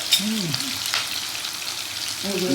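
Garlic sizzles steadily in a hot pan for chicken curry, a continuous soft crackling hiss with a light stir or two, nearby and moderately loud throughout the short moment.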